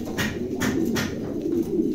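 Close Bukhara pigeons coo in low, repeated throaty murmurs, a steady rumbling purr with soft rhythmic pulses running through the short stretch.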